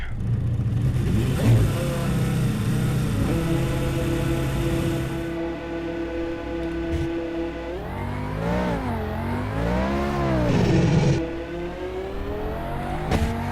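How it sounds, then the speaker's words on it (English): A race car engine in rFactor idles, then revs repeatedly, pitch climbing and falling in sweeping surges, loud and close with a whining, buzzy game-like tone. "we'll get the engine started and get out onto the racetrack"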